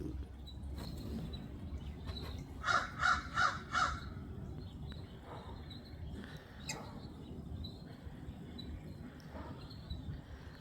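A crow caws four times in a quick, evenly spaced series from a backyard, moderately distant, over a low background of insects and faint ambient noise.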